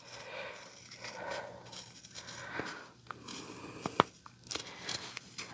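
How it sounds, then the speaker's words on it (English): Paper being cut with stiff paper scissors, a few crisp close-up snips and crinkles spread unevenly over a quiet background, with no one talking. "my paper scissors are a little hard to cut with, but it'll do the job"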